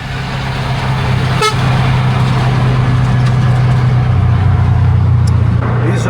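Heavy traffic on a busy Sri Lankan road with trucks and buses, a loud continuous engine roar close by. A horn toots once briefly, with a steady low drone running throughout.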